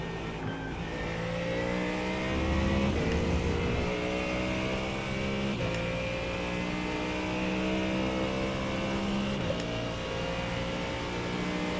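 GT3 race car engine in the iRacing sim racing game, a steady loud engine drone with rising and shifting harmonic tones as it revs and changes gear, running continuously with no talk.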